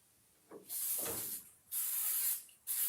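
Three short bursts of hissing aerosol spray onto a stencil, each lasting under a second, separated by brief pauses, close to the listener.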